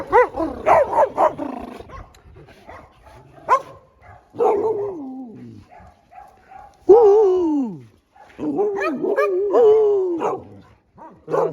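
Several dogs at a mountain dog shelter bark loudly and close, in bursts of bow-wows, yips and whimpering whines separated by short pauses, with no one speaking.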